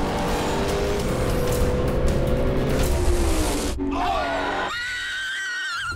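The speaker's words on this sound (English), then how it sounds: "Mike Groff's 73 Datsun may have gotten off to a little too good of a start." A 1973 Datsun launches hard off the line in a drag race at Maple Grove Raceway, its engine roaring loud and close before the revs drop sharply and a high tire or engine whine trails off.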